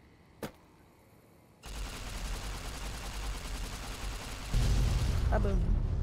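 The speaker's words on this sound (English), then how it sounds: "let's blow up the other thing" A large blast booms in Fallout New Vegas along the Lonesome Road, preceded by a sharp click, then a roaring rumble that swells louder and heavier toward the end.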